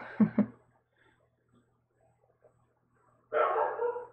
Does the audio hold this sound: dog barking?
yes